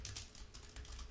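Placeholder text being typed on a computer keyboard, a few quick, faint key clicks in close succession over a brief moment, without speech.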